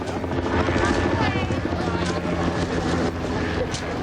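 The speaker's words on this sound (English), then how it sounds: "The sound of helicopters briefly drown out the conversations below" Helicopters fly overhead during 1996 flood coverage in Woodland, a loud continuous rotor thrum and engine drone that fills the whole stretch, with voices faintly underneath.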